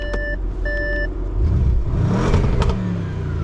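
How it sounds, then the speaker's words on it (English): An Audi RS7's engine revs up at close range at night, a low rising roar swelling and falling back, preceded by a few electronic chimes and beeps. "Let's give one last rev."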